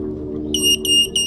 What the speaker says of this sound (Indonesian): Nanti dia akan bunyi bip bip 3 kali guys kalau udah selesai